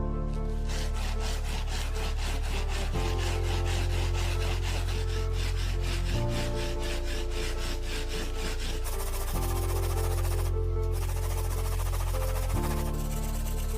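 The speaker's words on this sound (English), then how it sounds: "Then use this jig for sharpening chisel." A wood chisel is sharpened in a homemade angle jig set to 30 degrees, giving steady, rhythmic back-and-forth rubbing strokes that run throughout, under continuous background music.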